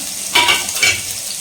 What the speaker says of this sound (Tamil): இந்த வெங்காயமே வந்து வடகை மாதிரி நான் நல்லா வதக்க போகிறேன்